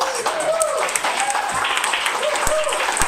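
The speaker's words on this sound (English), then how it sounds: "Another round of applause for Tom, please." Applause and clapping from a poetry reading audience fill the clip, mixed with voices and cheering calls over the steady clatter of hands.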